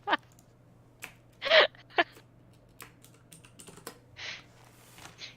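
Keys typed on a computer keyboard during a GMU versus NJIT match, in short irregular bursts and single clacks with a low steady hum underneath, fairly quiet and close.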